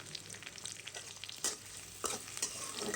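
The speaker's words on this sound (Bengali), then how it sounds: "তেলটা গরম করে এখানে রসুন দিয়েছি" Garlic sizzling and frying in hot oil for spinach cooked without onion, a steady crackling hiss with a few sharper bursts as it is stirred in the pan.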